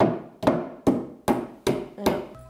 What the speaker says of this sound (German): Nimmst du den Hammer und machst ein bisschen tack, tack.